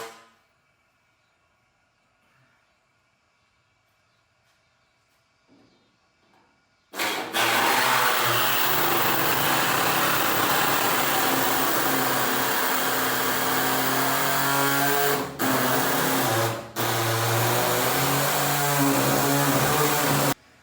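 Pneumatic air body saw chopping through rusty sheet metal on a Ford F100 truck body, starting abruptly after a quiet lead-in and running loud and steady with a harsh buzzing rasp, broken by two brief pauses.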